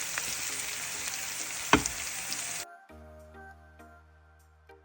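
Bright sizzling of garlic frying in hot oil after onions, with a sharp clatter partway through, then the sizzle cuts out, leaving quiet, faint tonal background.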